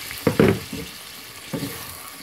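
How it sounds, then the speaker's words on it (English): A spoon stirs fish curry after boiled water is poured in, giving a few wet sloshing, scraping strokes close by, two quick ones followed by a softer one. "I'll give it a nice stir."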